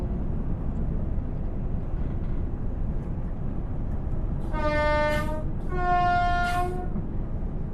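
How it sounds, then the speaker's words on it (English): A Class 802 train horn sounds twice from inside the cab in Train Sim World 6, two long harmonic blasts over a steady engine rumble, the second slightly longer. "the horn inside of the cabin is beautiful"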